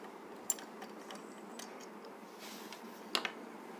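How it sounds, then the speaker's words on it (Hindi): A bobbin case comes out of a sewing machine, giving a few small, close, crisp metallic clicks and ticks with quiet handling noise between them and no speech. "बॉबिन केस हम बाहर निकाल लेते हैं।"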